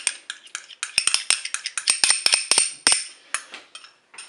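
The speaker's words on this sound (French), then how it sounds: "On mélange tout ça." A utensil stirring a tomato mixture with beef meatballs in a Cookeo pot, scraping and clinking against the metal bowl in quick, irregular, bright taps, close and clear with no talking.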